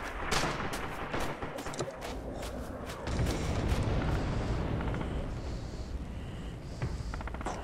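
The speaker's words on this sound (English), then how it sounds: "Incoming artillery!" Artillery barrages and gunfire in the Red Orchestra 2 multiplayer war game, a dense, continuous rumble of booms and cracking shots that swells louder partway through, with no talking.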